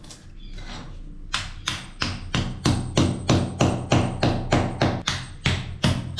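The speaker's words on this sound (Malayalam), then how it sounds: "അപ്പോൾ നമുക്ക് പ്ലഗ് അടിച്ച് സ്ക്രൂ ചെയ്ത് കൊടുക്കാം." Plastic wall plugs are hammered in while fitting a European-style toilet: a loud, close series of about a dozen sharp hammer blows in an even rhythm, each ringing briefly.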